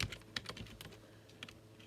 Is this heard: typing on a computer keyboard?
yes